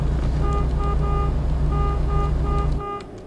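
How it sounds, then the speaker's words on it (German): A truck air horn in American Truck Simulator blares repeatedly in short rhythmic bursts over a loud, steady diesel engine drone, stopping abruptly near the end. "Ja, ich hör dich hupen."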